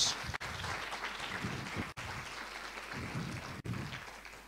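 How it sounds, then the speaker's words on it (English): Event audience applause, a steady wash of clapping from a crowd in a hall that holds at moderate volume with brief dropouts, no speech over it. "One more round of applause, Jeremy Nicholas."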